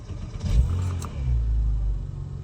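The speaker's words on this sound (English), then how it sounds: "you can hear the starter motor able to turn a lot quicker with the greater cranking amps" Porsche 987 with a new Exide EA770 battery: a brief, quick starter-motor crank catches and the engine fires into a loud, close, steady rumbling idle.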